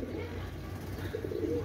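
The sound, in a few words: Benaras pigeon cooing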